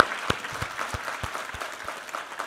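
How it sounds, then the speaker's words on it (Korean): Church congregation clapping in praise during a Korean Sunday worship service, a scattered, uneven round of individual claps with sharp transients rather than dense applause. "우리 하나님께 감사와 영광의 박수 올려드리겠습니다"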